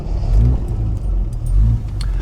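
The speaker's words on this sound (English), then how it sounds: "The car does always start nicely and easily." A 1973 Triumph TR6 engine catches and rumbles up close, loud low revs rising and falling in two swells before settling into a steady idle.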